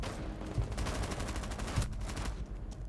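Rapid bursts of video game gunfire, dense and continuous fusillade-like shots at moderate level throughout, with no talk over them.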